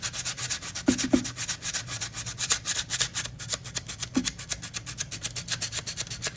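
Wood is sanded by hand to remove glue marks, a fast steady rhythm of rasping strokes close up, with a few light knocks in between.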